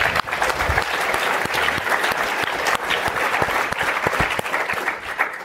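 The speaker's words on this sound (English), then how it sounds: "Clap that up." A seated audience at a business panel event breaks into sustained applause, a dense, even wash of clapping that carries steadily from start to finish.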